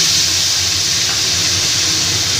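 Chili paste hits hot oil already holding tempered bay leaf and cumin, giving off a loud, dense, continuous sizzling hiss. It is close and stays unbroken for the whole stretch, with no voices.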